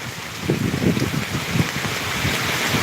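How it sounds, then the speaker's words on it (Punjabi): Heavy rain pours down steadily in a village in Punjab, a dense continuous hiss with the patter of drops on surfaces, close and fairly loud throughout with no voices. "ਇੱਥੇ ਮੀਂਹ ਜ਼ਿਆਦਾ ਆ ਗਿਆ"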